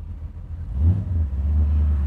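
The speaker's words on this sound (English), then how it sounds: "The exhaust sounds amazing on the car also." Low rumbling exhaust of a 1930 Ford 5 Window Coupe street rod, steady and close, swelling briefly as the engine pulls before settling into a continuous deep drone.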